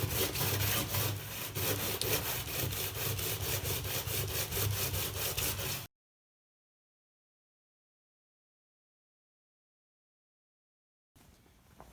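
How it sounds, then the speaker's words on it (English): A sanding block takes down an edge on a window part for a reverse trike in a workshop, making steady, close rasping strokes for about six seconds before silence. A brief noise returns at the very end. "We have here a sanding block, and we're going to take down that edge a little bit."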